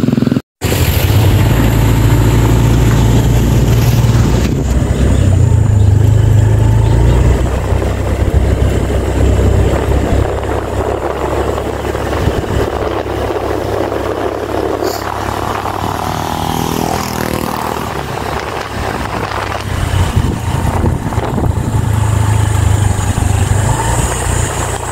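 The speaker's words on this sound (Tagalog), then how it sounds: "May motor kaming magagamit" A motorcycle engine runs steadily close by, a low droning rumble that holds for the whole stretch with slight shifts in pitch and no talk over it.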